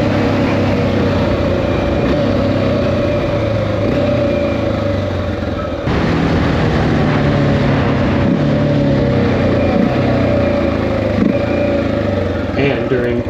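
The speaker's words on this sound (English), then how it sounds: "The sound is not only enjoyable at full throttle, but also while matching revs on downshifts" A 2023 Honda XR650L motorcycle engine with a side panel air intake rumbles loudly, its pitch rising and falling through quick rev-matched downshifts with a brief dip mid-clip, close and continuous.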